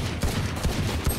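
Rapid gunfire from the video game Valorant, a loud, dense burst of shots in quick rhythm across the whole second, with no talk over it.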